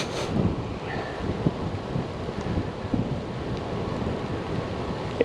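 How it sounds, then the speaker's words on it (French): Wind blows along a canal in gusty, buffeting rushes against the microphone, a low rumbling noise with small bumps and no voices. "Et toujours le vent qui souffle, qui souffle, qui souffle."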